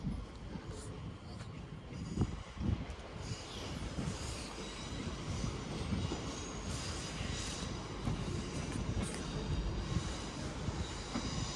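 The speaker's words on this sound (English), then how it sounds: "we have a 323 arriving in" A Class 323 electric train pulls into Manchester Piccadilly station, a loud continuous rumble of wheels and motors filling the platform with faint squeals and clanks, steady throughout with no break.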